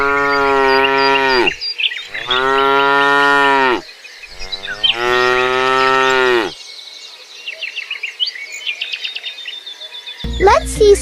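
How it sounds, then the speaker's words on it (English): A cow moos loudly and close, three long drawn-out lowing calls with short pauses between, followed by bright bird chirps and twittering in the background. "It's a cow."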